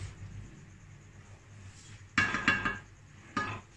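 A metal lid clanks onto a cooking pot of Jaisalmeri kala chana with a few sharp, close metallic clinks, followed by one more clatter after a quiet pause with a low stove hum underneath.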